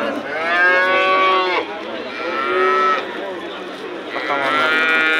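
Cows moo at the Shahrikhan cattle market in Andijan: three long, loud, drawn-out lowing calls follow one another closely, with a busy market murmur beneath.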